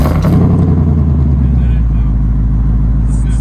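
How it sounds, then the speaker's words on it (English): A 2024 Ford Mustang GT V8 with active exhaust fires up by remote start, a loud burst that settles into a deep, steady idle close by. "first let's start the car up"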